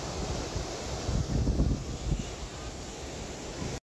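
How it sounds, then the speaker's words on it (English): Sea waves wash onto the shore at Kessingland on the UK coast, a broad rushing surge swelling in the middle, with wind buffeting the microphone, then cutting to silence. "Here's some more gratuitous sea sounds for you"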